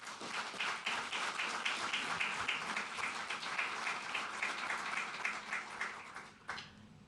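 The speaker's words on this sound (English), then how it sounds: "so a big round of applause for all of you." Audience applause after award announcements at a NASA briefing on plans for living on the Moon, a sustained round of clapping that is fairly faint and distant, dying away near the end.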